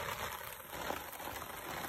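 Steady rain falling outdoors during a walk with a Rottweiler, a continuous soft hiss of drops on surfaces at moderate level with no voices.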